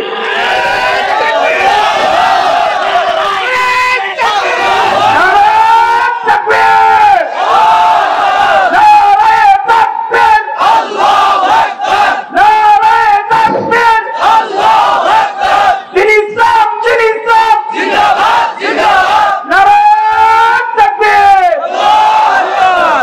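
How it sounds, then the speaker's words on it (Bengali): A large crowd roars a rhythmic chant of takbir, loud and sustained, with repeated surging shouts that rise and fall across the whole stretch, voices massed together at a rally. "আপনাদের ভিতরে একজন ইমানদার নারায়ে তাকবীর দিয়ে দেখাতে হবে।"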